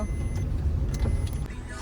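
Steady low rumble of a car driving, heard from inside the cabin, with a constant engine and road drone and faint clicks and rattles, moderately loud and without clear speech.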